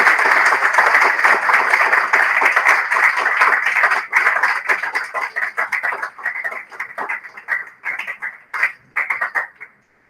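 An audience claps at an entrepreneurship and innovation webinar. The applause is dense and steady at first, then thins into scattered, uneven claps that trail off to silence.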